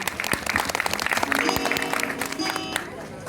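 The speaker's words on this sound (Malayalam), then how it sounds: "ഈ കുട്ടികളെയും അധ്യാപകർക്കും നല്ലൊരു കൈയടി കൊടുത്ത് നമുക്ക് അവരെ സ്വാഗതം ചെയ്യാം" Steady applause from an audience welcoming children and their teachers to a stage debut performance, moderately loud and continuous, with a sustained musical tone and faint voices underneath.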